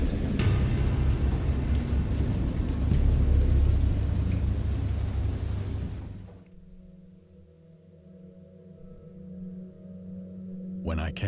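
A heavy storm of pouring rain and rumbling thunder roars loud and steady for about six seconds, then cuts off abruptly to a faint low hum, with a brief crackle near the end.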